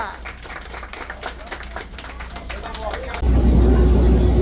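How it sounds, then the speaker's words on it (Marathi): A group of Rotary Club members claps together on a sea outing to Elephanta Caves near the Gateway of India, a dense patter of applause under murmuring voices, then cut off by a louder, steady broadband rumble. "टाळ्या"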